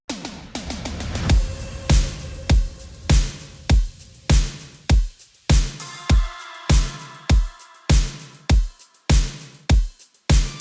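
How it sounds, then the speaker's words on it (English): A steady, punchy 80s-style synthwave electronic drum beat thumps in a regular pulse, with crisp hats and swelling synth effects layered over it, loud and upfront. "Let's hear what all the drums and effects together sound like."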